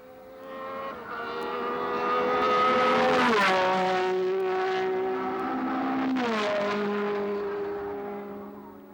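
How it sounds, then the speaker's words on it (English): A 1969 Tasman Series racing car, a Ferrari driven by Chris Amon, roars past up close in Australia, its engine pitch dropping sharply as it goes by, followed by another car passing with the same falling whine. "Chris Amon flashes past in a winning manner"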